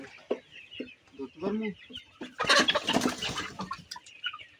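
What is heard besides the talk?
Sonali hybrid chickens clucking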